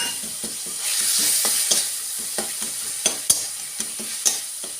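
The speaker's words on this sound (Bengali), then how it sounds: "এবার রসুন বাড়াটা একটু কষিয়ে নেবো" Garlic and green chilli paste sautéing in hot oil over onion paste, a steady close sizzle with scraping stir strokes and occasional sharper spatters, no talk.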